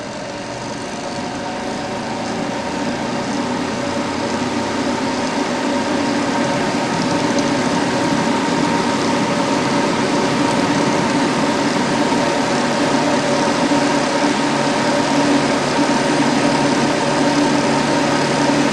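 A centrifuge rotor balanced with Rotor-Mate technology spins steadily and loudly, a smooth continuous mechanical whir that builds slightly over the first few seconds and then holds even throughout, with no talking.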